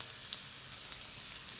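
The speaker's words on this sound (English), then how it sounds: "We're going to cook the mushrooms at a nice hot temperature" Girolle mushrooms fry in hot oil with a steady, soft sizzle and a few faint crackles over a quiet hiss.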